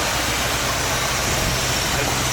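A 1964 Cadillac engine running with an exhaust leak, a steady loud rumble with constant broadband roar and no pauses, heard close up without talk.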